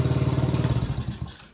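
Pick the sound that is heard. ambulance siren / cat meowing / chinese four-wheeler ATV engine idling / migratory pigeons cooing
chinese four-wheeler ATV engine idling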